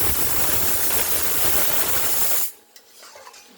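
A pressure cooker full of braising mutton and potatoes blasts a loud, steady whistle of hissing steam that cuts off abruptly, leaving faint kitchen clatter behind.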